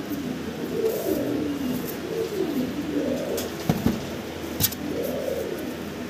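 A pair of fancy Velvet Shield pigeons coo in repeated rolling, rising-and-falling phrases, close and steady, with a couple of brief knocks partway through and no talking.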